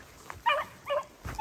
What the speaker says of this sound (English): Dog caught him.